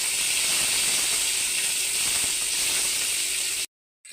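Chopped onions hit hot oil in a frying pan and sizzle loudly and steadily, a dense close crackle that cuts off abruptly near the end.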